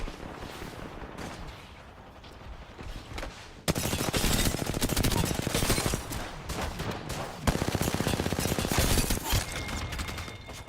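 Rapid gunfire rings out in Apex Legends during a firefight, with dense bursts of automatic shots and sharp impacts, quieter at first and then loud and sustained through the rest of the clip.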